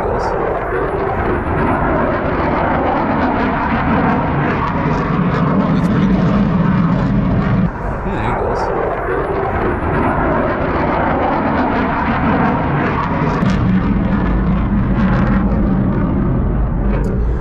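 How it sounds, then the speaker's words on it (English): A military jet roars overhead as a long, continuous, loud rumble across the whole stretch, with a brief dip partway before the drone returns, set against a noisy outdoor background. "I mean, it's a ramjet, right? It's a military jet."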